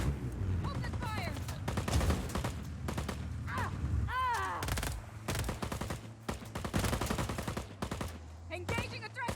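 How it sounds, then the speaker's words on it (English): Gunfire in the video game Just Cause 4 comes as rapid bursts of automatic shots and single cracks, loud and close, with voices calling out between the volleys. "Open fire!"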